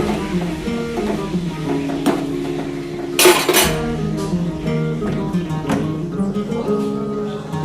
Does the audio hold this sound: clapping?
no